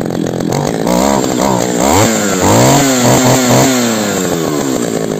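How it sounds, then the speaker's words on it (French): An Echo 550 EVL chainsaw runs loud and close, its two-stroke engine revving up and down in rising and falling sweeps, then holding a steady high whine toward the end. "Donc on va procéder au démarrage de la 550 EVL."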